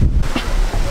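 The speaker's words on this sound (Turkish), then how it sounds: "Bugün oldukça rüzgarlı bir gün var." Strong wind buffets the microphone on a breezy beach in El Nido, Philippines, a loud continuous rumbling gust with surf-like wash, no voices.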